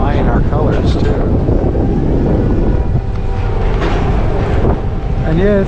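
Strong wind buffets a microphone aboard a tour boat heading out in Qaqortoq, Greenland, a loud continuous low rumble throughout, with faint voices and engine hum under it.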